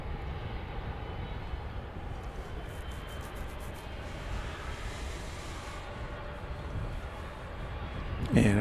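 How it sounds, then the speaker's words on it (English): An American Airlines Airbus A321 airliner rumbles at DFW Airport as a steady, distant jet roar holding throughout, with a brief louder noise at the very end. "We've got American 1406 going to San Antonio. It's an Airbus"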